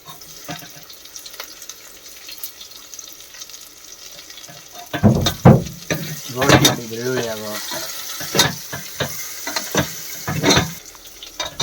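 Curry leaves and garlic dropped into hot oil in a pan, quiet at first and then a burst of crackling sizzle and spatter that goes on with stirring while someone talks.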